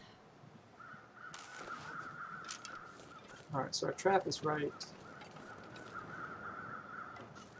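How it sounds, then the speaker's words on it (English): Crows caw in a snowy wilderness survival video game, a short burst of several harsh caws in quick succession against a steady wind, with someone talking quietly before and around them. "Man, I wish you could get rid of those crows."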